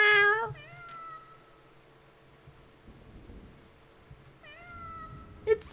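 A cat meows in the Japanese-themed video game Eizoku: two short, clear mews open the clip, a longer drawn-out meow follows near its end, and a faint, steady rain-like ambience runs underneath.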